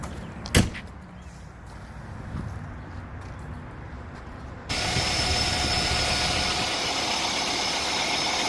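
A vehicle door shuts with a single sharp thud early on, then an engine idles as a steady, low rumble that grows noticeably louder and fuller partway through and holds constant to the end.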